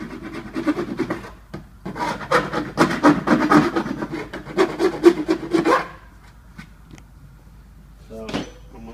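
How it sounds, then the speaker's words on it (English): A hand file rasps against plastic on a sight glass retrofit part, producing a series of quick, rhythmic scraping strokes up close, stopping near the end with a single brief scrape after a pause. "I'm using a file. You can use whatever you've got to trim this plastic."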